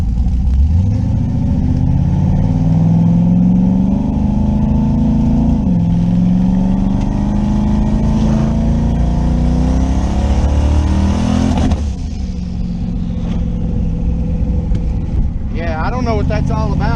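A car engine revs hard through a new JEGS XHD torque converter, a loud, steady, droning rise in pitch that climbs for about twelve seconds before dropping off and settling to a rougher idle. A voice talks over it.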